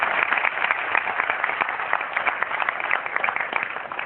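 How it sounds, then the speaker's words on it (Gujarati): An audience at a charitable trust event in Surat claps in a dense, steady burst of applause that fills the room for a few seconds with no pauses. "એકવાર જોરદાર તાળીઓથી એમને અભિનંદન આપું"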